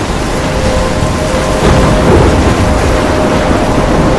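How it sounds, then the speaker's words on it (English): A thunderstorm with heavy rain in the game Life is Strange: loud, dense rain hiss with a low rolling thunder rumble swelling midway, no voices. "I'm trapped in a storm?"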